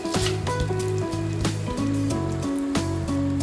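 Rice tipped into hot oil with browned onions for biryani, giving a steady crackling sizzle with soft stirring scrapes throughout, close and fairly loud, with no talking.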